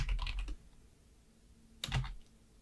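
Keys tapped on a computer keyboard while entering a file name, a short burst of clicks at the start, a quiet pause, then another quick cluster of keystrokes near the end, close and fairly soft with no talking.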